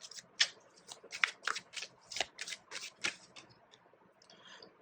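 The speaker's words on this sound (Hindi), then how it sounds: "एक और कार्ड निकालते हैं" Tarot cards are shuffled and drawn by hand in a quiet room: a run of crisp, papery riffles and flicks in quick bursts, tapering off to a softer slide at the end.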